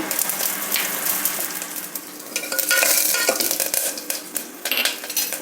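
Mustard seeds, one crushed garlic clove and curry leaves crackle and sizzle in hot oil for a rasam tempering, with a steady close sizzle and the scrape and clink of a stirring spoon in the pan. No one talks.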